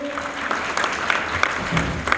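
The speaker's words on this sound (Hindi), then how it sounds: "जोरदार तालियों से स्वागत करिए" At a political rally, the crowd gives a guest a brief round of clapping that sounds moderately distant, with a few sharper individual claps standing out from the steady patter.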